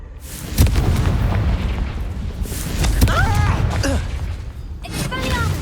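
Spell blasts go off in Hogwarts Legacy: booming explosions and bursts over a steady rumble of game sound, with a few brief voice-like chirps between the hits.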